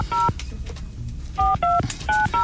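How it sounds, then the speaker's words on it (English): Telephone keypad tones beep in a quick run of separate short presses, loud and close, as a cell phone number is dialed during a radio show. "Call his cell phone, Goose."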